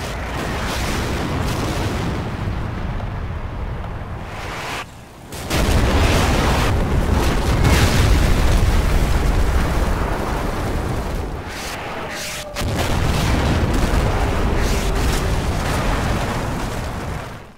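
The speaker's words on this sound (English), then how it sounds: "After a very long call-in time, my fire mission on the farm finally comes in." Artillery from a fire mission lands on a farm in the Cold War wargame Combat Mission, producing loud rolling explosions and heavy booms in continuous waves, broken by two brief lulls.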